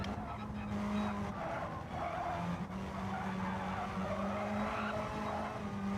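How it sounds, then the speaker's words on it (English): Race car tyres squeal in Gran Turismo 7 in sustained, wavering screeches over a steady engine drone, continuous and fairly loud throughout with no talking. "You could hear the tyres squealing."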